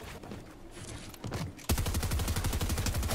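Combat SMG fire in the video game Halo Infinite starts after quieter game sounds and then runs as a loud, rapid, continuous stream of shots.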